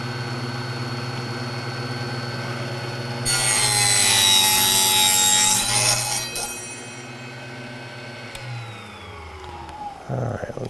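Small saw cutting pieces of wood for a 1/24 scale model of the Kleine Scheidegg, a harsh, bright rasping burst lasting a few seconds over a steady low hum, then fading into quieter rubbing.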